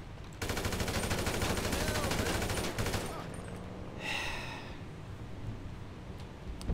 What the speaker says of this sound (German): Franklin, bitte nimm die Waffe. Okay, und jetzt! Ich möchte die jetzt erschießen!